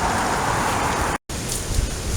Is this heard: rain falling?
yes